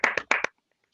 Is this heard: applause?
yes